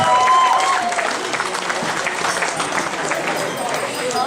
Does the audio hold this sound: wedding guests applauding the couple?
yes